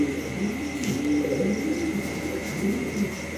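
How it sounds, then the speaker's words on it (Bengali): A pair of fancy exhibition pigeons with stone-coloured eyes, now sitting on eggs, give soft, low cooing calls in a repeated, rolling rhythm close by, over a steady background hum with no talking. "ভিডিও স্ক্রিনে আপনারা একবার এক্সিবিশন কবুতর দেখতে পারতেছেন"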